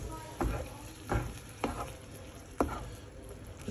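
Stirring sausage pasta sauce in a pan with a small spatula over medium heat, with four distinct scraping strokes against a soft sizzle, close and fairly quiet.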